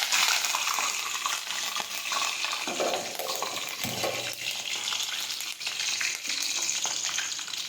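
Mustard seeds, dried red chilies and curry leaves frying in hot oil, a steady loud sizzle with light crackles and some stirring, heard close with no talking.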